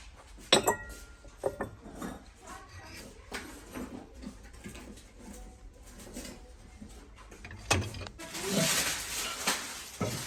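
Porcelain plates and dishes clink and chink sporadically in a shop, with sharp clatters scattered over a busy background of faint voices and shuffling.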